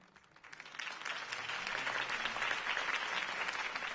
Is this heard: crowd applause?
yes